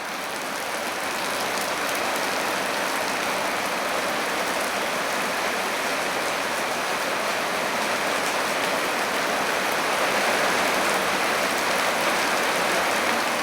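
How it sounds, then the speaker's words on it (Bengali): Heavy downpour in Rajshahi, a steady, dense roar of rain drumming on surfaces that stays loud and unbroken throughout, with no voices. "এই যে রহমতের বৃষ্টি ইনশাল্লাহ শুরু হয়ে গেছে"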